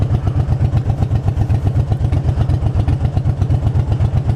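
A 2009 Harley-Davidson Fat Bob engine while riding, a loud, close, rhythmic V-twin pulse thumping evenly and continuously.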